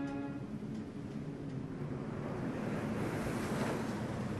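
Rough sea surf breaks steadily under strong wind off Samson Island, a continuous loud wash of waves and gusting air with no voices.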